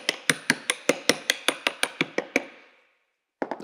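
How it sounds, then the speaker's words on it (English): Rapid, even metallic tapping from a brass hammer tapping a pulley onto a shaft of a Ford 3-cylinder tractor, a dozen quick strikes in steady rhythm, then a pause before a couple more taps. "I'm using a brass hammer so I can just gently tap it on."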